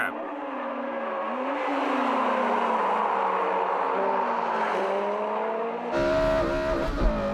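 A Honda Civic Type-R and a Civic Mugen RR race on a track, with a loud sustained engine drone that shifts pitch through the corners and a sharp change in tone near the end. Voices talk faintly underneath.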